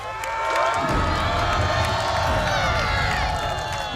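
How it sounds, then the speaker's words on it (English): A crowd cheers and shouts on a strongman straining through an event at the Cowal Scottish Highland Games in 2008, with sustained loud voices and some clapping in an outdoor setting. "You guys have got to cheer him on"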